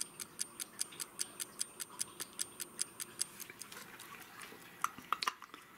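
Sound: vintage Elka keywound travel alarm clock ticking

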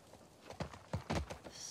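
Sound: horse hooves in The Last of Us 2 video game

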